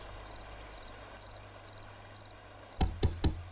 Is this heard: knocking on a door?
yes